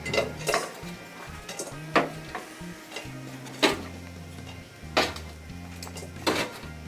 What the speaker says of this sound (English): I'm going to put all of my wings in my mixing bowl.